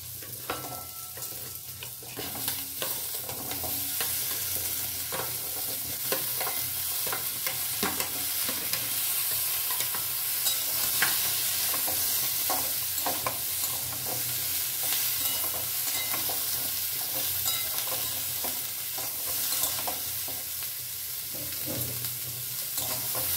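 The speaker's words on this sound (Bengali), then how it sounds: "পেঁয়াজটা ভালো করে একটু নাড়াচাড়া করে নেব। জাস্ট একটু নাড়াচাড়া করার পরে আমি দিয়ে দিচ্ছি এই কাটা সবজিগুলো" Onions and chopped vegetables fry in a pan for a homestyle sabzi dal, a long steady sizzle with constant scraping and clinking of a spoon stirring throughout.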